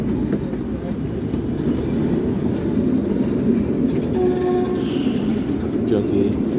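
A Kalka–Shimla narrow-gauge toy train rumbles through a hill station without stopping, its steady wheel and carriage noise loud and continuous, with brief tonal squeals or horn-like notes near the end.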